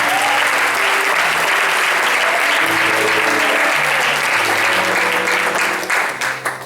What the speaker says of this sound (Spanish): puede darle un aplauso al Rey de Reyes y Señor de Señores